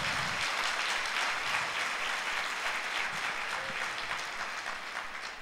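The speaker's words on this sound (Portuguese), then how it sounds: "Só quem recebe, dê um aplauso ao Senhor Jesus." A church congregation breaks into steady, full applause, a dense wash of many hands clapping that holds throughout and slowly eases toward the end, with no talking over it.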